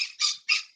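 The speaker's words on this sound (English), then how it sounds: "that's my bird." A pet bird gives three quick, harsh squawks in close succession, loud and near, with nothing else heard around them.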